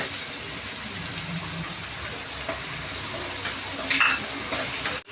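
Sliced onions sauté with salt in a pan for an okra mappas, giving a continuous even sizzle with occasional faint stirring scrapes and no talking.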